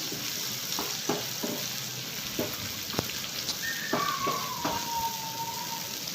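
Curry leaves frying in a pan for mint chutney give a steady soft sizzle, with intermittent stirring taps and scrapes and a faint tonal squeak near the end.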